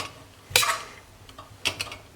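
A potato press squeezes cooked potatoes for mashing, giving two short metallic squelching crunches about a second apart, close and fairly crisp.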